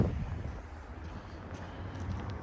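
Wind buffets a microphone outdoors on a March walk through Regina, a steady low rumble and hiss that fills the whole moment, with faint traffic behind it and no one talking.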